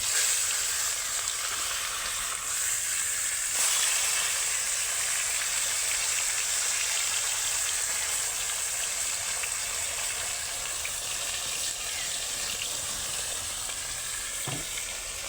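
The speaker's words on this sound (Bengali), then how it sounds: "মুড়ো দিয়ে দেবে, সুন্দর ভাজা হবে।" Pieces of bhetki fish and fish heads fry in a pan of oil, giving a dense, continuous sizzle and hiss at steady loudness that barely changes from start to finish.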